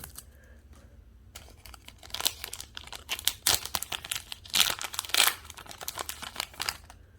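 Paper and foil crinkle and crackle as scissors cut open a Sorcery Alpha trading card booster pack, a close series of irregular crisp bursts over a quiet background.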